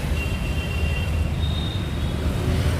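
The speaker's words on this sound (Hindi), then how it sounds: "मतलब बहुत ज़्यादा ट्रैफिक है।" Heavy road traffic rolls past nearby in a dense, continuous low rumble, loud and unbroken, with faint tonal whines drifting over the top.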